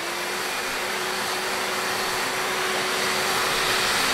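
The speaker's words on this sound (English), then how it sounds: "I'm going to hit it with the hair dryer to help it out." Hair dryer blowing on a screen-printing screen, a steady loud airy whoosh with a constant motor hum, unbroken from start to finish with no talk.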